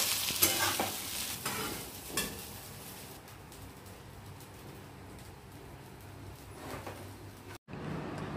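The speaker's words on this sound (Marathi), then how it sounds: "आणि आता कढईमध्येच मिक्स करते." Food stirs and fries steadily in a kadhai, a continuous loud sizzle with a spoon scraping through it in irregular strokes, close up and without talk.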